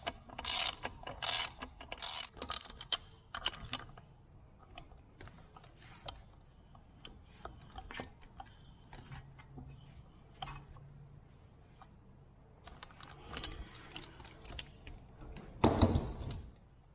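Bolts being run down by hand on the rear wheel of a 2008 Kawasaki Vulcan 900 motorcycle, close metallic ratcheting clicks and rattles in irregular bursts, busier at the start and end.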